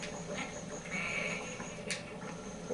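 A sheep bleating in the Tak and the Power of Juju video game as it is placed on a fiery pot, a few faint wavering bleats over a steady game background hum.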